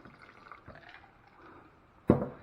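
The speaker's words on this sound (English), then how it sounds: "Let's add a little bit more of this ice water." Ice water poured into batter for catfish po boys, a faint trickle early on followed by one sharp close splash near the end that trails off.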